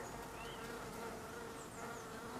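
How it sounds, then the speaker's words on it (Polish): Honeybees buzz steadily around an apiary hive, a dense, fairly faint hum with individual insects swooping past nearby. "tu jest dosłownie parę pszczół"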